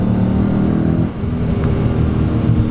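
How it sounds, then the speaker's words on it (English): A manual Dodge Challenger R/T engine drones low and steady after a downshift, a loud, close rumble with a brief dip in the middle before settling back. "Gonna go ahead and downshift again."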